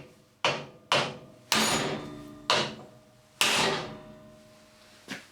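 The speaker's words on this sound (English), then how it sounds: "then we're going to give it a good crack using the hammer." Six sharp metallic hammer blows land on a chisel set against a rounded bolt, each a loud ringing crack with a short decaying tail, struck at irregular intervals about a second apart.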